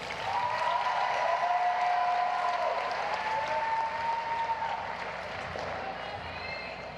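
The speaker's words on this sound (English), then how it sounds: "Let's give them a round of applause." An audience at a dance marathon memorial hour applauds a family, broad clapping and crowd noise with some cheering tones, loud at first and slowly fading over several seconds.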